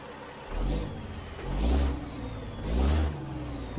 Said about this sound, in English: Let's get the windows down so you can hear this engine.